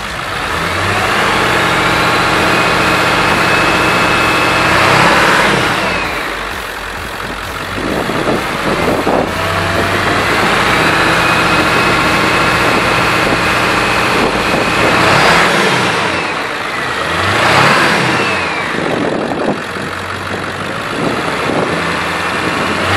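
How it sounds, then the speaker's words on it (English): A 7.3 Powerstroke diesel truck engine revs loudly and repeatedly, its deep roar rising and falling in long surges while a turbo whistle whines above it, with no voices. "let me see if I can get you some turbo noise."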